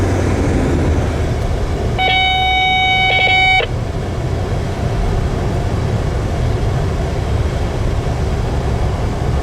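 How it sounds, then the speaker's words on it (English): Amtrak Palmetto number 89, a southbound passenger train from New York City to Savannah, passes with a steady loud rumble throughout and a sustained two-tone horn blast lasting about a second and a half near the start. "Our first train is Amtrak Palmetto number 89, headed southbound to Savannah, Georgia from New York City."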